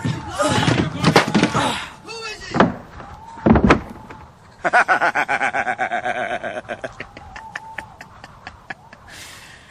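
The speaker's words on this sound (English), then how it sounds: "Help me with the ladder and the trap door." A trap door being shut amid a scramble, with heavy wooden bangs and thuds near the start and middle, followed by a rapid run of clattering knocks, mixed with voices and laughter.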